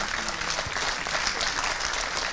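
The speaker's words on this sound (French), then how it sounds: "vous pouvez l'applaudir" An audience at a film screening and discussion claps steadily and fairly loudly for a couple of seconds, dense applause with no pause.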